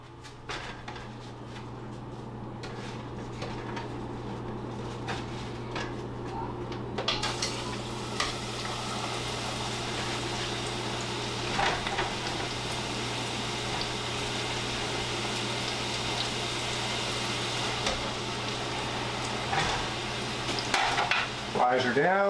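Fries for steak frites going into hot oil: a quieter stretch of clinks and handling, then a louder, sustained bubbling sizzle that carries on with occasional knocks of utensils nearby.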